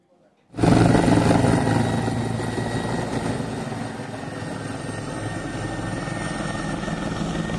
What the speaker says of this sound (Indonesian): Pemprov Riau mengerahkan 4 heli waterbombing untuk membantu pemadaman karhutlah.